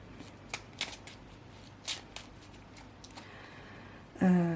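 Tarot deck being cut and shuffled by hand: several soft, quick card flicks and riffles, close and quiet, ending in a short louder burst, with no talking.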